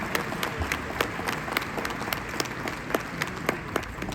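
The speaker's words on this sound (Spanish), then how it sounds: "Quiero por favor un super aplauso aquí" A keynote audience at a Dell Technologies Forum breaks into sustained applause, dense clapping throughout with sharper individual claps standing out, fairly close and steady, under faint crowd murmur.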